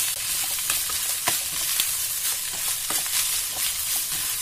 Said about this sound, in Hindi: इसमें धनिया भी डाल के आप चला दीजिए इस तरह।